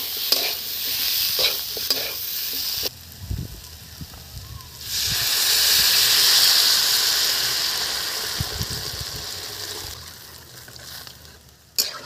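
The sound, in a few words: taro frying and being stirred in cooked spice paste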